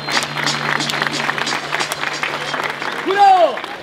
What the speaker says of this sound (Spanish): ¡Tiempo! ¡Fuerte el aplauso!